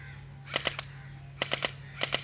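A battery-operated toy gun fires gel bullets in bursts of quick, sharp popping shots, in short groups of two to four, with a quiet steady hum behind them.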